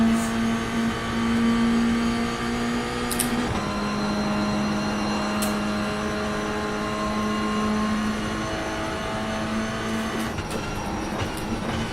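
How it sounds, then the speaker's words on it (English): An inline-4 race car engine in the iRacing sim drones at steady pitch, drops sharply as it shifts, then holds a lower tone before climbing back, with faint clicks and no talking. "after you start running inline 4 engines in this game, after like an hour, I'd say they all start to sound like vacuum cleaners"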